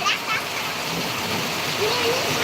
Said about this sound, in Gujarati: સુરતમાં જબરજસ્ત વીજળી ને કડાકા ભડકા સાથે વરસાદ થઈ ગયો